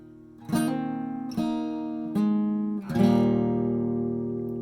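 An acoustic guitar in drop D tuning with a capo rings out a single note and then walks into a full chord, four plucked attacks spaced about a second apart, each left to ring and decay, close and clean with no talking.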